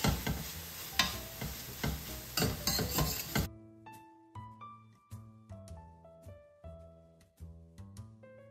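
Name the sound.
mushrooms cooking in pan for coq au vin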